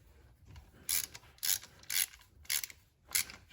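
A ratchet tightens the bolt on a Chevy HHR's intake variable valve timing solenoid, giving about six crisp, evenly spaced clicking bursts close up with no talk.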